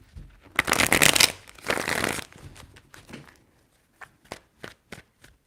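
Tarot cards are shuffled by hand in a dense riffling burst, followed by a few slower, lighter card flicks and taps, close and alone with no talk.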